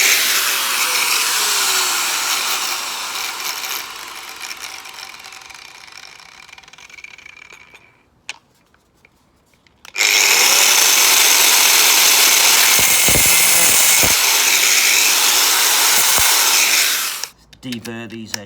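Power tool deburring the cut edges of a caravan grey waste plastic pipe, a loud close whirring run that fades out, a brief pause, then a second sustained burst that stops abruptly.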